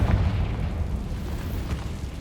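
Confringo fire spell detonating in Hogwarts Legacy on PS5, a deep booming blast with a rumbling low-end tail that fades over a couple of seconds.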